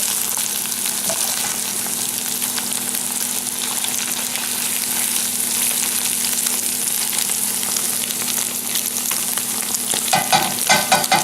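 A licorice egg fries in a pan, a steady loud sizzle running throughout with scraping as it is pushed and turned, the stirring growing busier toward the end.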